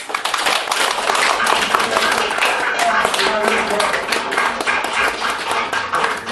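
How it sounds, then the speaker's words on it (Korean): Audience applause closes a poetry discussion event marking a book launch: dense, steady clapping from many hands fills the room at close range for several seconds without letting up. "박수로 정리하는 끝에서 박수를 좀 치도록 하겠습니다"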